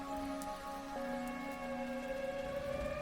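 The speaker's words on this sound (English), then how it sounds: "There's a lot of rain out there." Steady rain falling outside, a soft continuous patter on surfaces with faint tonal hum running underneath, constant and fairly quiet throughout.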